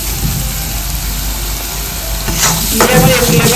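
Ginger-garlic paste and tomato paste sizzle and fry in a pan for paneer biryani, a steady frying hiss that grows louder with scraping stirs near the end.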